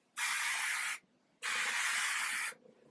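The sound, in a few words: spraying Catwalk by Tigi heat protectant spray on hair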